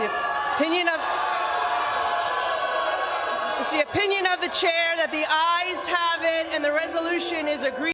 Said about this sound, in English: That was the sound of the gavel hitting the desk